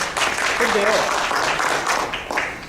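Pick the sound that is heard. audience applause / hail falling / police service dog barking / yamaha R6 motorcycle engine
audience applause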